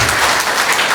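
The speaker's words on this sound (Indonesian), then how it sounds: "Yang setuju, kasih tepuk tangan." A church congregation breaks into brief, loud applause during a sermon, a dense burst of many hands clapping at once.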